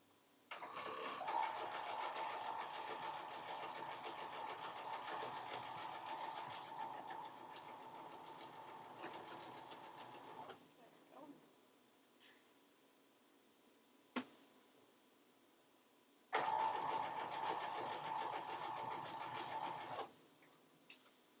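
A sewing machine stitches nested cotton quilt seams in two long steady runs, close and loud, with a quiet pause and a few small handling clicks between them.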